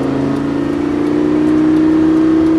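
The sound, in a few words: Lamborghini Gallardo accelerating at full throttle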